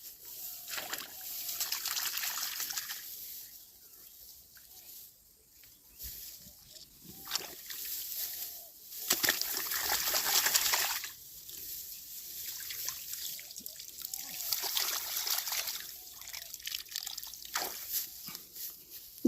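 Water trickling and splashing as mud is washed off the roots of an uprooted rice plant in a field, intermittent pouring and dribbling bursts, close by and moderately loud.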